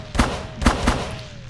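Three sharp gunshots from Call of Cthulhu: Dark Corners of the Earth ring out loud and close, the second and third in quick succession, with a faint tone underneath.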